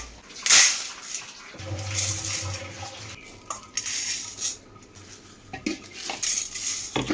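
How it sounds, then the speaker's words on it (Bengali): Rice and urad dal soaking in a bowl: dishes and utensils clink and scrape close by, with a short watery rinse and stirring in the middle, then more bowl clatter toward the end, no talking. "এই চাল আর ডালটা ভিজিয়ে রাখলাম"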